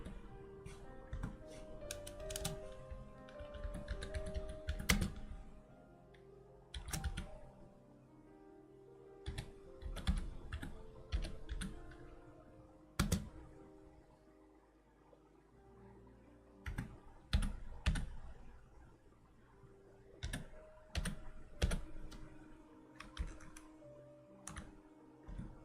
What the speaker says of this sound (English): I'll type this out.